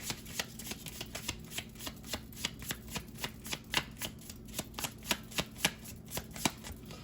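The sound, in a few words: tarot cards being shuffled slowly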